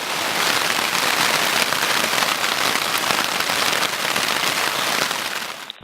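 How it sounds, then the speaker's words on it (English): Heavy rain pounds the ground around a tent during a storm, a dense, loud, unbroken hiss and patter that holds steady throughout before cutting off abruptly at the end. "It's like raining inside the tent, just from bouncing off the ground beside me."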